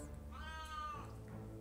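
A pet cat named Coconut lets out a single drawn-out meow, fairly soft and close, rising then falling over about a second against quiet background.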